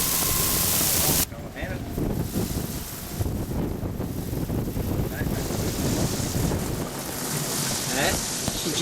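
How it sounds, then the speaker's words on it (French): Strong wind of 15 to 20 knots at sea during windsurfing, a heavy roar buffeting the microphone with water noise underneath and a voice speaking over it. "tout fonctionne à merveille aujourd'hui avec des vents de 15 à 20 nœuds"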